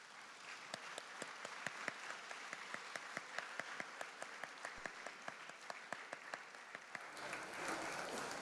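Graduates at a class of 2016 graduation ceremony applaud the honored guests on stage: a faint, steady patter of many hands with sharp individual claps standing out, thinning near the end.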